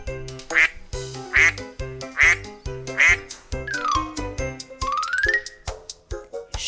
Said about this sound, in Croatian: Gega se pliva i glasno kvače.